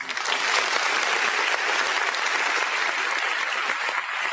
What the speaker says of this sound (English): Give a warm round of applause for Carl Landry,